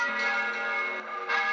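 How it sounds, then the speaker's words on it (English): Church bells rung by novice bell ringers in Bigbury, Devon, with a sustained, resonant metallic tone that swells slightly near the end, heard from a short distance. "So that's the sound of some novice bell ringers"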